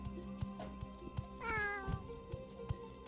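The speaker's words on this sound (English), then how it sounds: "let's take a look at these cats" Cats meowing in the video game Morrowind, one drawn-out meow standing out clearly over soft repeated game clicks and thuds, with no talking.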